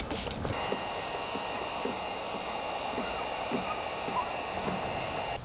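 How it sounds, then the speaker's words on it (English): A heat gun blows steadily as it heats tint film on a 2023–2025 Honda CR-V headlight, a constant close whooshing hum with faint creaks and taps underneath. "we're just going to apply heat across the headlight"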